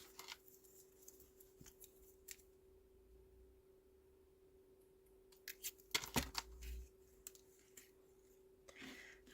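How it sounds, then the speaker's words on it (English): Scissors snipping a piece of card for handmade die-cut greeting cards, with a few faint clicks early on, then a cluster of sharp close cuts and a light tap, over a quiet steady hum. "I think I might just cut that off."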